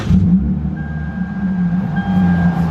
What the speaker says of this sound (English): let me start the car and let me show you guys what I'm hearing